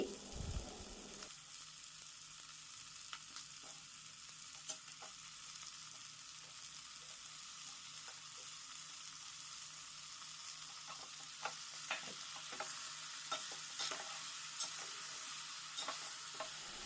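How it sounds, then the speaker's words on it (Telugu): Chopped tomatoes stirred into softened onions in a pan for a green papaya curry, with a steady sizzle and scattered scraping clicks of the spoon throughout, no talking. "ఇప్పుడు తరిగి పెట్టుకున్న టమాటాలు కూడా వేసి ఒకసారి బాగా కలుపుకోవాలి"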